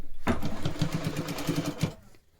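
A sewing machine stitches the side seam of a kurti in one close, steady burst of rapid mechanical chatter lasting under two seconds before stopping.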